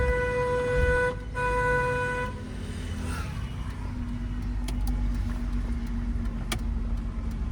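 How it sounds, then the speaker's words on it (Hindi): A car horn blares in one long, continuous press for about two seconds in a narrow street, then cuts off, leaving a steady engine hum. "लॉन्ग हॉर्न प्रेस करो क्योंकि इधर से कभी भी कोई भी आ सकता है"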